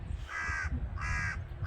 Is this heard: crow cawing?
yes